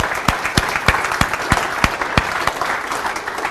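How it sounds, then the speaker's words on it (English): A live audience at a hypnosis demonstration applauds steadily, with a few sharp, loud individual claps standing out over a dense patter of hands. No one speaks during it. "Give me a nice round of applause."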